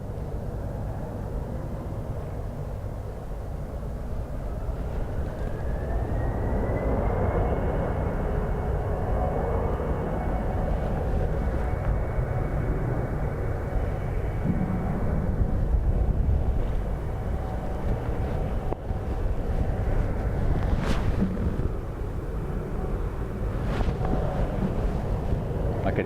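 A jet aircraft approaching Dublin Airport in high winds during a storm, its rising engine whine and roar steady under heavy wind buffeting on the microphone.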